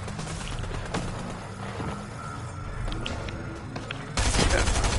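Gunfire in the video game Fortnite, a rapid fusillade of shots crackling over a steady game background, ending in a louder closer burst.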